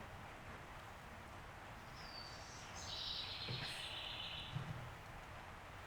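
Faint bird chirps and a short whistled call ring out outdoors near a barn, rising briefly over a steady background hiss from rain on the roof.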